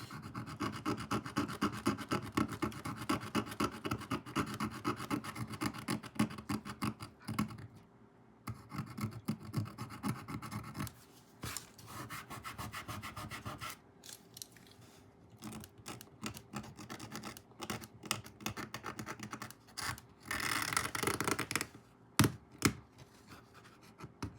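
Dry, rapid scratching of an X-Acto knife scraping paint off a painted postcard, close and quiet, coming in uneven bursts with short pauses between strokes.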